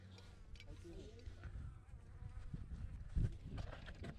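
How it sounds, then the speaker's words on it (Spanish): A bee buzzes faintly near a rock climbing route, a thin wavering drone under background noise with a few thumps and brief sounds of movement. "Me picó una abeja."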